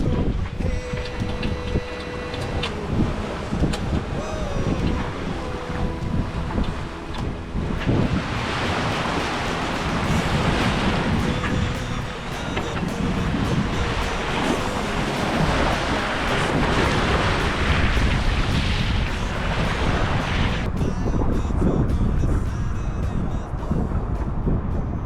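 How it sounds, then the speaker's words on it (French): Strong wind roars continuously over a sailboat crossing the Gulf Stream at night under sail, with waves and surf rushing against the hull throughout, loud and close, gusting in dense broadband bursts. "Il y a beaucoup de vent"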